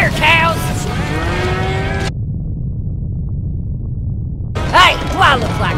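Cartoon cows moo loudly in a long drawn lowing call, followed after a silent gap by an animated character shouting over a steady rumble.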